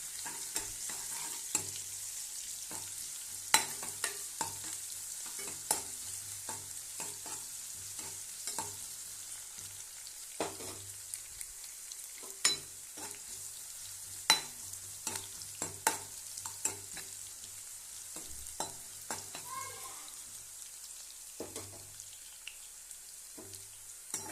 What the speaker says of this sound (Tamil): இது லைட்டாக வறுத்து விட்டுக்கலாம் வெங்காயம் வந்து ரொம்ப வதங்கணும்னு அவசியம் இல்லை